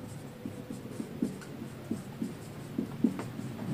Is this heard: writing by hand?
yes